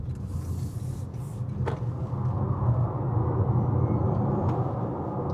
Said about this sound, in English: let's go ahead and accelerate one more time